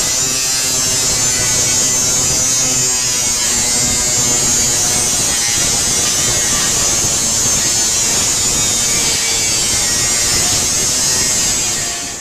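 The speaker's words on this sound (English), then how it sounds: "We're just going to use the angle grinder with the cutting disc to separate the tank directly in" Angle grinder fitted with a cutting disc slicing through a Harley-Davidson Sportster steel gas tank shell, a loud, steady high-pitched whine with gritty metallic rasp running continuously and up close.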